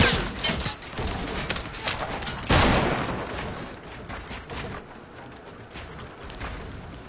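Dense, loud bursts of video game gunfire and explosive shots packed closely together, one heavy blast standing out midway, continuing with rapid crackling shots throughout.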